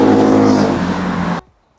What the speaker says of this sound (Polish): To nie miasto jest głośne, to samochody są głośne.